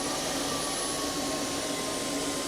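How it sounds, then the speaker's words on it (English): A Roborock F25 wet dry vacuum starting its deep self-cleaning cycle in its dock gives a steady, loud motor whir with a constant high whine, unbroken for the whole moment. "Deep self-cleaning is starting, followed by quiet drying."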